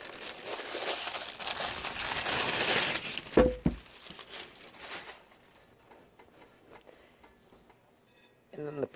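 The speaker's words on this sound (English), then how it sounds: "And then the protective packaging" Crinkly protective packaging is handled while a carbon steel wok is unpacked: loud, dense rustling and crumpling for about three seconds, then a knock and quieter, sparse handling noises.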